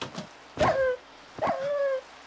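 A dog in the Minecraft video game gives two short barks with a whiny, rising-then-falling pitch, spaced less than a second apart. The barks come through clearly with no talking.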